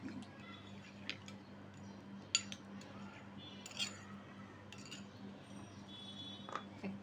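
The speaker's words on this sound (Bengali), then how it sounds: "এখন ভালোভাবে নেড়ে দিতে হবে।" A spoon stirs yeast into warm milk in a bowl, giving faint, sparse clinks and light scrapes against the bowl over a quiet background.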